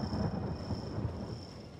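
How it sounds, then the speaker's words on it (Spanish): Thunderstorm ambience in a Ghostbusters video game: a steady low rumble of rolling thunder with a constant wash of rain and wind, continuous and moderately loud, no voices. "Sigue la tormenta"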